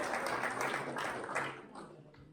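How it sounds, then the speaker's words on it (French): Audience applause at a panel discussion on FAIR data for the St. Lawrence, a steady wash of clapping from a seated crowd that fades toward the end, with no speech over it. "on peut l'applaudir encore"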